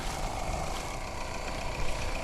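Engine idling steadily with a low, broadband rumble, heavy and continuous throughout with no voices; a Volkswagen or Mercedes car is the source.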